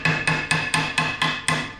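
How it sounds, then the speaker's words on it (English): A ball peen hammer taps a BSA Bantam race motorcycle frame in seven evenly spaced, sharp metallic strikes with a ringing tone, close and clear, no talking. "The other thing you can do, ball peen hammer,"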